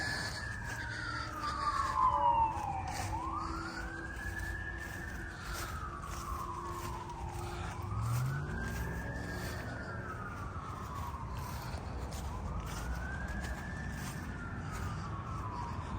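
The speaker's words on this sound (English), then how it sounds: "I hear the ambulance." An ambulance siren wails in slow rising and falling sweeps, repeating about four times at a moderate distance over low traffic rumble.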